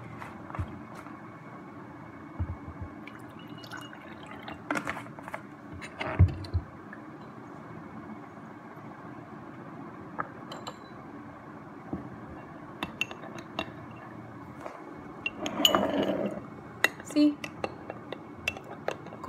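Coriander powder being stirred into water in a glass, giving scattered clinks and scrapes against the glass over a steady room hum, with a brief louder burst of stirring near the end.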